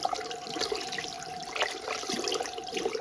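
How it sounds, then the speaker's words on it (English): Water runs from a tap as hands are rinsed, a steady splashing stream with small irregular spatters, close and alone. "And I'm going to rinse my hands off."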